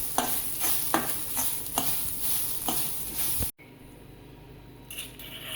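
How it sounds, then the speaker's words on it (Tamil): Stirring and frying something in a little ghee until golden brown for a lavang lata sweet, with steady sizzling and repeated scraping strokes, then a sudden cut to a quieter sizzle with a faint clink. "கொஞ்சம் போல் நெய் விட்டு வறுத்துக்கோங்க"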